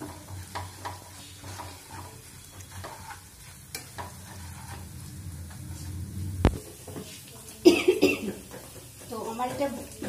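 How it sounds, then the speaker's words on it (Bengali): A person in a kitchen coughs a few times, sharply and close, while ginger and garlic fry in the pan under a soft sizzle and stirring, with some talking in between. "ভীষণ কাশি পাচ্ছে"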